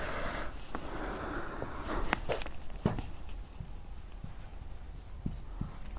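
Chalk or marker writing on a board during a chemistry lesson on ionization potential, heard as soft scratchy strokes and taps in short bursts, fairly close in a quiet room with no talking.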